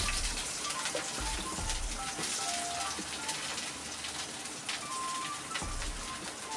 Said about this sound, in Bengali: তেল গরম হয়ে আসতে এবার দিচ্ছি পেঁয়াজ দিচ্ছি